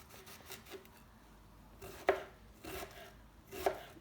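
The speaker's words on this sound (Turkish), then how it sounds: "2 adet soğanımızı doğruyoruz" A knife chops two onions on a board for a savoury potato cake, with soft irregular cuts building to two sharper, louder knocks, close and fairly quiet, with no one speaking.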